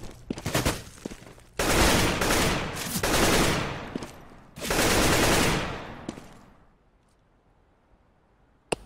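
Video game gunfire comes in loud bursts of rapid automatic shots separated by short pauses, then thins to a quiet tail and ends with one last sharp crack.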